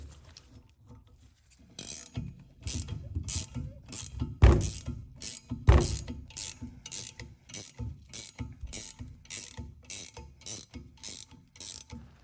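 A pilot bearing puller tool is tightened on a 2003–2004 Cobra clutch job, producing a close, rhythmic series of ratchet clicks in quick repeated strokes, with a few louder metallic knocks partway through.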